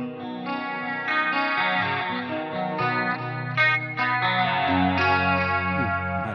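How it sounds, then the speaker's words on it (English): Clean electric guitar through a Helix processor with chorus and delay effects, sustained shimmering chords and melodic notes ringing out steadily and fairly loud. "I have a clean sound that has both chorus and delay."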